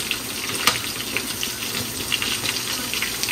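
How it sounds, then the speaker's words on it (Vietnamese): Gluten puffs (mì căn) frying in hot oil, giving a steady hissing sizzle with scattered crackles, close and continuous with no voices. "khi mình chiên nó đó các bạn, cái nó phồng lên ha"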